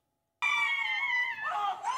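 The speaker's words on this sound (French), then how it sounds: "Des cris de joie entrecoupés de larmes." A man exonerated after 34 years in prison lets out sustained high cries of joy mixed with tears, loud and strained, rising and wavering with no other sound beneath.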